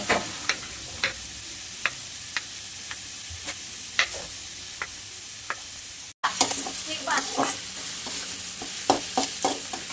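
Onion and potato fry and get stirred in a pan for a South Indian-style potato filling, a steady sizzle punctuated by sharp spatula taps, sparse at first and then more frequent after a brief break.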